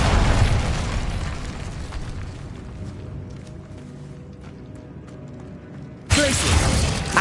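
Spell-casting blast of the Incendio fire spell in the video game Hogwarts Legacy, a loud whooshing burst that fades into a rumbling tail before a second fiery burst erupts near the end.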